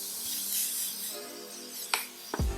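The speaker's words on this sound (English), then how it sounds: "I'm going to go in with some setting spray." Makeup setting spray misted at close range in a few quick, soft hissing bursts near the end, following a quiet rubbing background.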